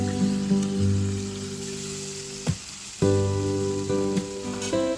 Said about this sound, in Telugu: బెండకాయలు జిగురు అనేది లేకుండా బాగా ఫ్రై అయిపోయింది